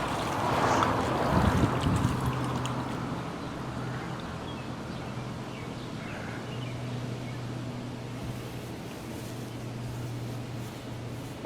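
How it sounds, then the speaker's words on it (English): Air rushing and gurgling out of pool solar heater lines as they drain, a steady low whooshing flow with a brief louder burst near the start, continuing at an even level throughout. "I only drain the solar out just so you can get to hear all the air."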